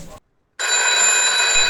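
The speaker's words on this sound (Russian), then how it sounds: "О, звонит кто-то." A telephone rings in the Motor Depot video game, a steady electronic ring tone starting after a brief silence, loud and close with no talk over it.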